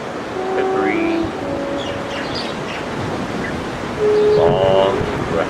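Ocean surf breaks steadily along a shore under a breeze, with bird calls chirping and whistling over it at several moments and a louder burst of calls near the end; no one speaks.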